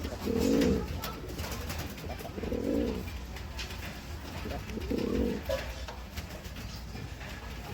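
Pigeons in a loft give three separate low, soft coos spaced a couple of seconds apart, heard close over a steady background hum.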